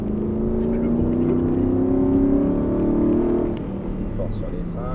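A car engine accelerates on a race circuit, a loud close drone with rising harmonic tones that drops in level toward the end as the revs settle.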